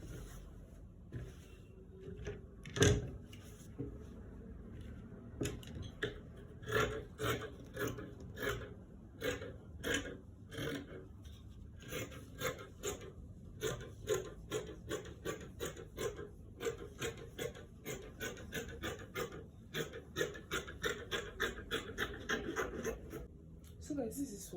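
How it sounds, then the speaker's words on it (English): Scissors cutting out a fabric pattern piece for a princess dart gown, heard as a steady run of rasping snips and rustles that quickens toward the end, close up, with a person talking over it. "now the next thing to do is to go ahead to cut out this piece"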